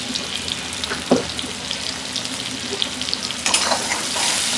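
Chopped onions frying in a pan over a stove, a dense continuous sizzle with occasional stirring scrapes and a rising hiss toward the end.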